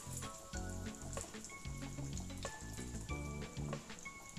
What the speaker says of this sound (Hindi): So I'll take one patty and fry it and drop it gently